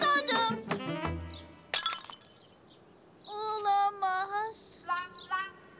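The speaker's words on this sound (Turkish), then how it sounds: "Kayu etrafı toplamaya çalışırken bir yandan da saksının kırılmasına George'un sebep olduğunu düşünüyordu" A cartoon flower pot breaks with a sharp crash and a scatter of shattering pieces in a children's animated scene, with children's voices before and after it.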